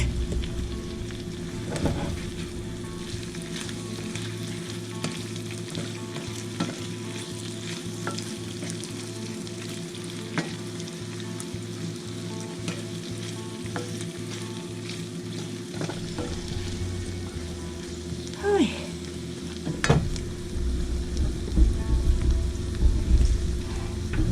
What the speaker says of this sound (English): We'll fry them a couple of more minutes.